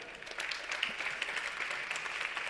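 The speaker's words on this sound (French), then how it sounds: "Sébastien Sivignon, le CEO de Custocy, sous vos applaudissements évidemment." An audience at a tech conference applauds as a company CEO walks on stage, a steady wash of many hands clapping at moderate distance, continuous and fairly soft throughout.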